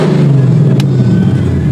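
A Ford Mustang Mach 1 engine holds a loud, steady, close-up rev, a deep sustained roar with a brief sharp click partway through.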